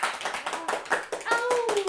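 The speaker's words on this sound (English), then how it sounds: "I could use some applause." Scattered hand clapping from a small group, uneven and brief, mixed with overlapping voices chattering nearby.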